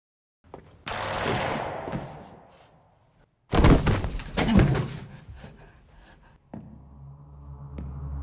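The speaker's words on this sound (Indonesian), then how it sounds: "Dan tiba-tiba saja terdengar suara tembakan." Gunshots ring out in a dramatic scene: two sharp, loud blasts a few seconds apart, each followed by a ringing, rumbling decay, with a low tail at the end.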